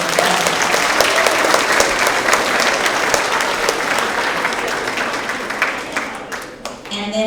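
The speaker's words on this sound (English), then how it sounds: "Give our 5th grade boys team another round of applause." Sustained applause from a school award-assembly audience honoring a 5th grade boys team, dense clapping filling the room, with scattered voices mixed in before it thins out near the end.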